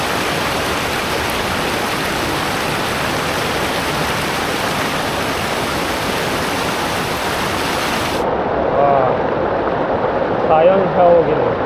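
Steady rushing water from a small waterfall pours down like a natural shower in Canada, loud and continuous, with a brief exclamation near the end.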